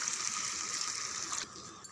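A tumbler of water is poured into simmering chicken gravy in a cooking pot, giving a steady, close gushing splash that lasts about a second and a half before cutting off, followed by a faint bubbling.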